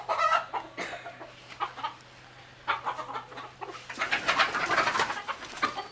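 Chickens cluck in short, scattered bursts close by, with brief quiet gaps, growing busier and more crowded toward the end.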